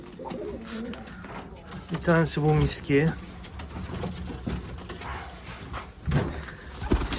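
Pigeons at a loft coo softly in a few short bursts before being released, heard under steady nearby talk from a man.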